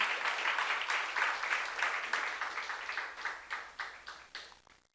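A church congregation claps together in worship at a youth service, a dense, steady wash of applause with rhythmic pulses that gradually thins and fades out near the end.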